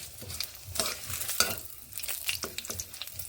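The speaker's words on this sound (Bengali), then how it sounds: "তেজপাতা আর ফোড়ন দিয়ে নেব কালো জিরে ফোড়নগুলোকে এইভাবে নেড়ে নিচ্ছি কয়েক সেকেন্ড" Bay leaf, green chillies and black cumin spluttering in hot oil while a spoon stirs them briskly: a close, crackling sizzle with quick scraping strokes against the pan, and no voices.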